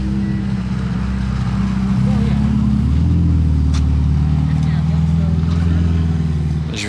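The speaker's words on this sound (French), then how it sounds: "il y a une belle Pista Spider là, qui nous fait son arrivée" A Ferrari 488 Pista Spider pulls up with a loud, steady engine drone that swells slightly as it nears, while people talk over it.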